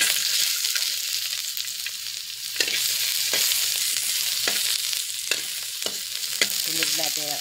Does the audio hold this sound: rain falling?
no